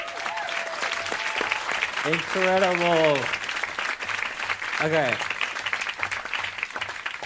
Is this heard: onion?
no